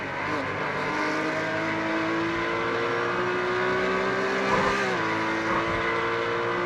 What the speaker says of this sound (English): Flying down the start-finish straight, those cars getting up to almost 160 miles an hour.